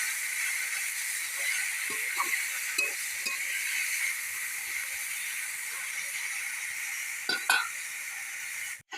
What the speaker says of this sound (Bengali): দেখো বন্ধুরা, শাকটা আমার ভাজা হয়ে গেছে